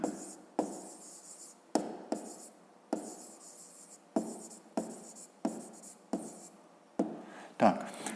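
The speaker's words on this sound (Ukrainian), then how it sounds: "Записуємо розв'язання." Handwriting out a fifth-grade math solution with pen on paper: short scratchy strokes in repeated bursts separated by brief pauses, close and fairly quiet, with no talking.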